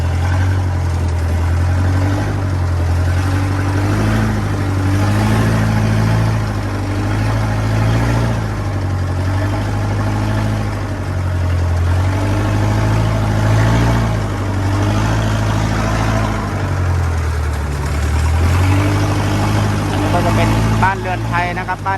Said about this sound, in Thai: เสียงอาจจะดังหน่อยเพราะเป็นเสียงเรือยนต์นะครับ